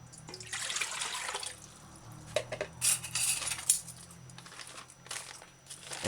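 Fresh water splashing and trickling into a rinsed container, with clinks of dishes or utensils, some louder splashes and drips in the middle, recorded close up with no talking.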